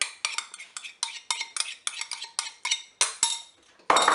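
Crème fraîche being stirred into salmon and shrimp pasta in a Cookeo pot, a quick series of close clinks and scrapes of a utensil against the pot in a steady rhythm, no voices.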